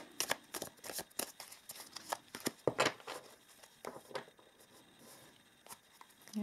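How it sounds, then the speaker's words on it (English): Tarot cards are shuffled by hand, giving quick papery riffles and soft slaps in irregular bursts with short pauses, close and fairly quiet, and no talking. "Just shuffle a little bit before we pull cards."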